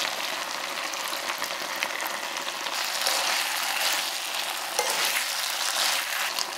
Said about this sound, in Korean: 소스들이 잘 섞이도록 저으면서 볶아준 후에